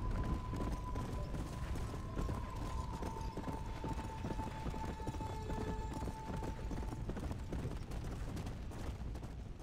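Steady horse hoofbeats clatter in a continuous galloping rhythm in the video game Red Dead Nightmare, with a sustained tone and busy game background noise throughout.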